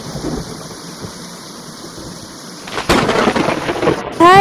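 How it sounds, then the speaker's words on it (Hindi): Loud thunder crash and heavy downpour in a Hindi cartoon set in a forest, a steady rain hiss breaking into a sudden rumbling clap partway through, with a bright tonal sound effect at the very end. "एक दिन आसमान में काले बादल और मूसलाधार बारिश होने लगती है।"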